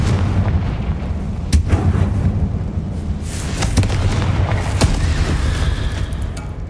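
Fire spell explosions from the video game Hogwarts Legacy boom and crack over a dense, rumbling game soundscape, with several sharper bursts standing out across the clip.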